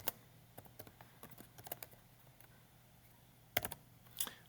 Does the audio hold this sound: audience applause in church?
no